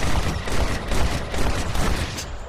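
A rapid burst of repeated gunfire in a video game duel, shots close together in an uneven rattling volley that fills the whole moment at close range.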